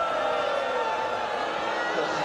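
Basketball arena crowd at a WNBA game between the Chicago Sky and Los Angeles Sparks, a steady wash of cheering and broad noise that holds evenly for a couple of seconds.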